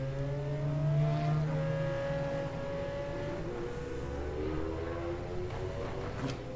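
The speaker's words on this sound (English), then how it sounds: "As he downshifts into the chicane." GT1 race car in a racing video game at Suzuka downshifting into a chicane, engine pitch stepping down through the gears as it brakes, steady and fairly close, with no talk.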